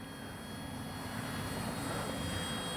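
A FMS Ranger 1220 V2 radio-controlled plane flies its pattern overhead, giving a faint, steady motor drone that swells slightly as it passes, with light wind noise underneath.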